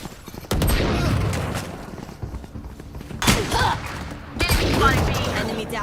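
Turret gunfire in a video game: loud, sustained rattling bursts with heavy thuds, stopping and restarting in several long stretches, close and dominant.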